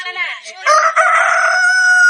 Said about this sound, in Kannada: ಕೋಳಿ ಬೆಳಿಗ್ಗೆ ಆಯ್ತು ಅಂತ ಹೇಳ್ತೈತೆ